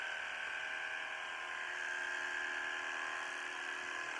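Electric clippers trimming a dog's tail fur, a steady close buzzing whir that runs unbroken and fairly loud throughout, with no talking.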